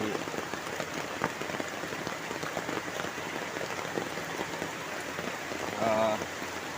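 Heavy rain pours down on a village in a dense, constant patter of drops striking surfaces close by, steady throughout with a brief louder splash near the end.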